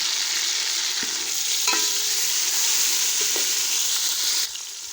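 Steady loud sizzling of tomatoes frying in a hot pan, with a few faint clinks of a utensil stirring, no voices.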